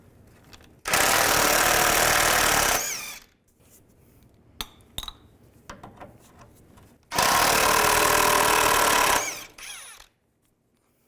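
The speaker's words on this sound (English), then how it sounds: "to take these bolts off. Use a 15mm socket." Bolts on a 2002-2009 Chevy Trailblazer engine are removed with a 15mm socket during a timing chain replacement. Two long, loud bursts of a power tool whir nearby, with quiet clinks and clicks in the pause between them.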